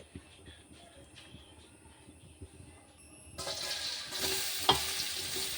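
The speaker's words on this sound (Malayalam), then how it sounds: "നമ്മൾ വേറൊരു പാത്രം ചൂടാക്കി അതിലേക്ക് നെയ്യ് ഒഴിച്ച് കൊടുക്കുന്നുണ്ട്." Ghee heats in a pan for chicken masala, starting with faint scraping and clinks, then a soft sizzling hiss that swells and stays low-level.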